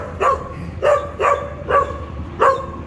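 Small puppy yapping in five short, evenly spaced barks indoors at home, each bark sharp and fairly close with a slight whine to it.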